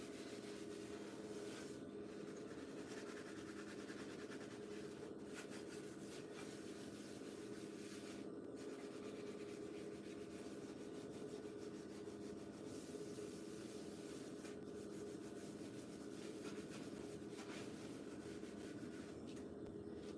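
Steady rubbing and scrubbing on a kitchen stove, a gentle, continuous friction sound that runs unbroken for the whole stretch at low level, with no talking over it.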